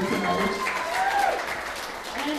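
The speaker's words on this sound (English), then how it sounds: "would you guys give it a big round of applause for every comedian that's been up here tonight?" Comedy show audience applauding, a dense, moderate wash of clapping while a voice talks over it.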